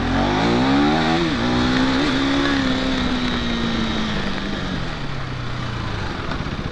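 A 2025 KTM Adventure 390X motorcycle engine is held high against its rev limiter, a loud, close, buzzing whine that climbs, holds, then slowly sags in pitch, with no voices.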